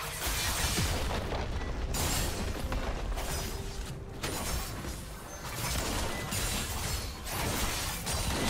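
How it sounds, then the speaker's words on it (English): A turret in League of Legends breaks apart with a loud shattering crash and rumbling booms, sustained and dense over continuous game noise. "Blue team's turret has been destroyed"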